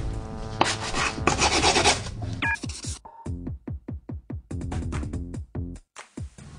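A screwdriver scraped along the edge of a skateboard deck over grip tape, first a long continuous rasp, then a run of short rhythmic scraping strokes, close and loud with no talk.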